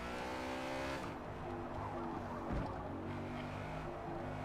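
A race car engine drones steadily at high revs, with tire squeal and a brief thump partway through, loud and continuous with no talking.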